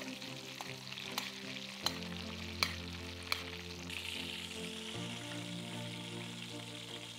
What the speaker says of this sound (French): on s'assure d'avoir un beurre bien mousseux et on évite surtout de brûler le beurre